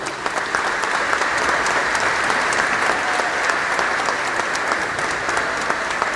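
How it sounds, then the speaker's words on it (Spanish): Crowd applauding a priest at an outdoor religious visit in Catamayo, steady, loud, sustained clapping from many people. "Una vez más queremos agradecer y un aplauso al Padre Sócrates."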